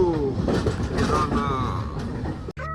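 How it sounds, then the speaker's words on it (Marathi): A train on the Mumbai to Haridwar route in India rumbles and clatters along steadily up close, with a squealing metallic tone sliding over the rolling noise before a brief cut near the end. "जस्ट निघलेली आहे ट्रेन इथून"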